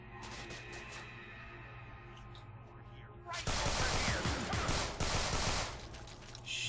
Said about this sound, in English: He has an automatic weapon,